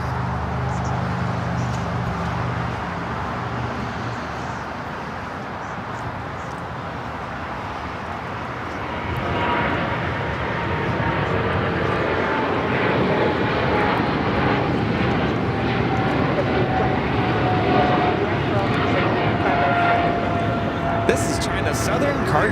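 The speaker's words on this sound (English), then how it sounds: "777 freighter rolling it down to 25 right." A Boeing 777 freighter rolls for takeoff on runway 25 right at Los Angeles airport, engine roar building and swelling loud and sustained while a voice talks over it.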